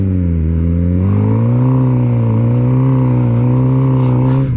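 A motorcycle engine idles steadily, then revs up slightly in a smooth, continuous drone, close and fairly loud with no talking.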